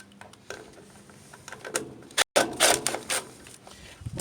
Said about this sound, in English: I'm going to be using an 8mm socket, and we're going to start removing it.